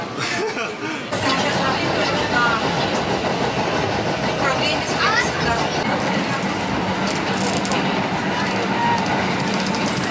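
Steady rumble and rattle of a moving train interior, with rhythmic clatter and people chatting throughout.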